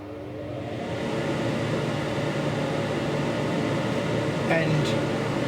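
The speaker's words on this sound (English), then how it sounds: "I shall now turn the extractor fan on." A laser cutter's extractor fan runs with a steady broadband whoosh and low hum, close and continuous, with a brief high tone near the end.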